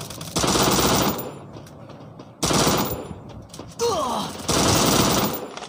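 In the Free Fire video game, a Vector submachine gun fires in three dense automatic bursts, each about a second long, with quieter gaps between them and some faint game sounds.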